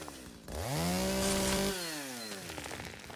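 A chainsaw in the video game Once Human revs up and cuts into a tree, its loud buzzing engine rising in pitch, holding steady, then dropping back to a rough idle.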